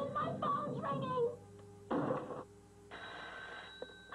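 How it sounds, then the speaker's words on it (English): A telephone rings in a 1987 comedy scene, an electronic trilling tone in separate bursts, heard after someone's excited speech and between voices. "Oh, my phone's ringing!"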